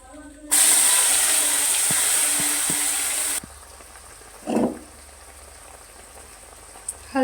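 Mustard, garlic and chili paste drops into hot oil with a sudden loud hissing sizzle that lasts about three seconds, then settles into a faint crackle, with a short soft clatter afterward.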